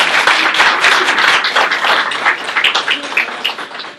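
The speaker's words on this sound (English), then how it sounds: "Let's give Betsy a round of applause." Audience applause at a township meeting, a dense, steady wash of many hands clapping for the full length, fairly loud and without talk.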